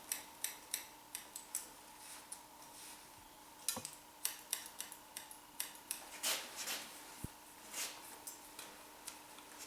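Scissors snip hair behind the ear during a short layered haircut, a series of crisp, close metallic clips arriving in irregular bursts with brief pauses between them.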